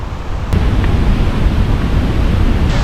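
Dray Sap waterfall in a Vietnamese forest near Buon Ma Thuot, steady broadband rushing of falling water, loud and continuous, with no talking.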